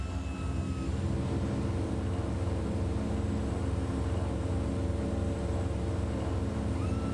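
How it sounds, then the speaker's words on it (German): Steady, dense drone of a Twin Otter's engines at takeoff power, heard from inside the cockpit in Flight Simulator, with continuous low harmonic hum and broadband rush and no talk. "Und ich habe den Sound hier wirklich vom Motor im Cockpit"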